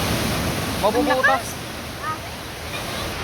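Strong sea waves at San Juan beach make a constant broad roar of surf close by, while a voice speaks briefly over it.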